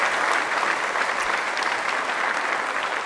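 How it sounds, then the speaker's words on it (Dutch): Live talkshow audience applauding two guests, Cindy and Patricia, a loud, dense and even wash of clapping that holds steady from start to finish. "Geef ze een groot applaus."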